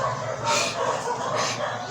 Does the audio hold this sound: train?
no